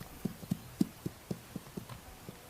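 Wild horses on the Pryor Mountain range clop faintly on hard ground, a distant, irregular series of soft hoof knocks at a walking pace over a quiet background.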